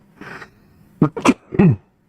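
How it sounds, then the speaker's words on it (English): A single sharp sneeze with a brief breathy intake before it, close and loud, followed by a short vocal burst. "Oh, I'm gonna sneeze. Mid-sneeze."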